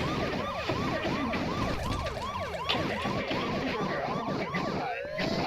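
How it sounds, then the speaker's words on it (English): A vehicle siren wails in The Walking Dead video game, loud and continuous, with rapid rising and falling sweeps running the whole time. "Turn off the siren."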